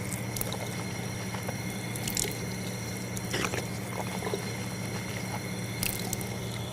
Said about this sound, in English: After that, washing the mouth 3 times.